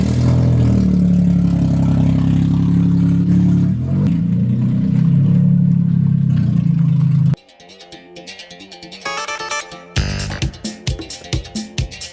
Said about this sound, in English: Marko ripped off his exhaust, as we can see